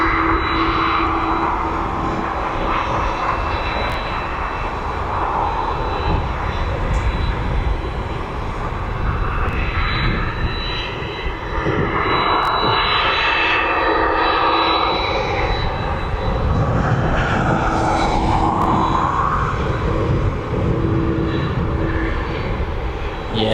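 A jet aircraft taxis all the way to the end stand, stand 111, at East Midlands Airport, its engines a loud, sustained roar with a low steady hum and a whine that swells and fades as it moves closer.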